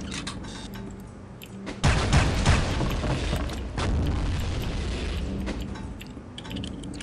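Rocket and grenade blasts in the video game Soldier of Fortune, with a heavy boom that kicks in partway through and is followed by a sustained, loud rumble and crackle of gunfire.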